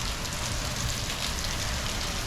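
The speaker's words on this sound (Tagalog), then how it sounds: "So ganyan kalakas ang ulan dito ngayon sa San Diego." Heavy rain pours down steadily in San Diego, a dense, constant hiss of water drumming on surfaces with no voices.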